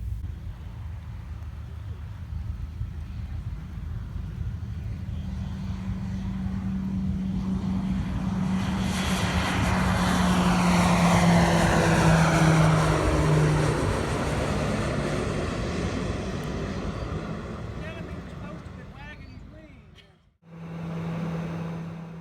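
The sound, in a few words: TBM 900 turboprop aircraft taking off in flight simulator game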